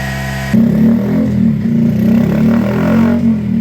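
Honda Monkey motorcycle on a dyno roller with its stock exhaust, the engine held at high revs under load, a loud buzzing drone close up that wavers slightly and stays continuous.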